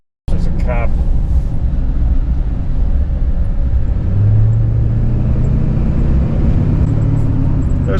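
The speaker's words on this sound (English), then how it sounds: "We are driving. Transmission's shifting smooth." A wrecked LBZ Duramax truck drives along with a loud, steady engine rumble and road noise from inside the cab, while someone talks over it.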